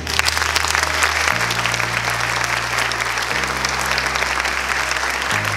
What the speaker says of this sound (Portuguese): Então agora eu convido vocês a receberem com uma calorosa salva de palmas o nosso presidente, Igor Duarte.